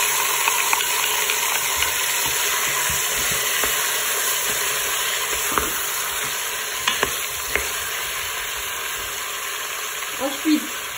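Onions sizzle loudly in a Cookeo electric pot alongside meat for a gambo stew, a constant bright frying hiss with scattered spoon scrapes and a few clunks near the end, and no speech.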